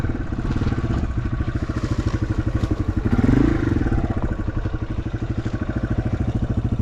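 Close by, a Yamaha TW200 single-cylinder motorcycle engine idles with a steady, loud thumping pulse and a slight swell midway, with no talk over it.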